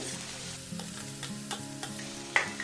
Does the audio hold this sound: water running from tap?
no